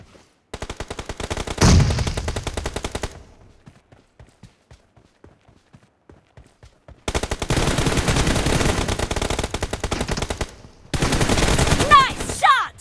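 Rapid machine-gun bursts in PUBG Mobile, loud close rattling fire in three long volleys separated by a quiet stretch of sparse footstep-like ticks, with a brief voice callout.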